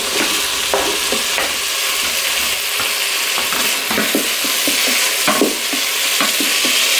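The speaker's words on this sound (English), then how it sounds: "Right, so that's my sausage frying." Sausage and chorizo fry in a Cosori pressure cooker with a loud, continuous sizzle, broken by repeated scraping knocks as the pan is stirred.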